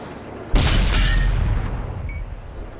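An ISU-152 tank cannon fires in a video game with a single loud, close boom that rolls into a long, fading rumble, followed by a faint whistling tone.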